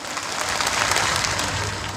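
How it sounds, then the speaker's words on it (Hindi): An audience at a rally in Pratapgarh district breaks into dense, even applause, a loud wash of many hands clapping at once for a couple of seconds without talk. "तालियां हो जाए।"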